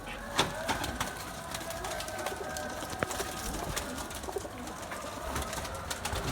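Pigeons, including white crested birds held for sale, coo softly in a steady background of bird sounds with scattered calls and faint rustling, no talk over them.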